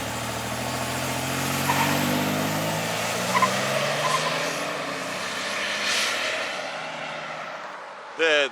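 A 1980s Buick Grand National turbo car launches from a standstill, its engine roar rising steadily and loud for most of the stretch before cutting off near the end.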